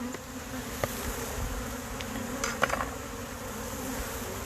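Honey bees buzz in a dense, continuous drone, close and steady, with a few brief louder passes of individual bees.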